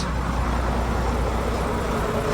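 Truck driving on a mountain highway in heavy rain, a steady close broadband roar of tires on wet pavement and engine drone with no pauses.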